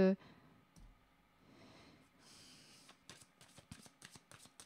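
Tarot cards shuffle and a card is drawn, giving soft, close riffling and a run of sharp clicking snaps that grow busier toward the end, with a voice speaking quietly at the start.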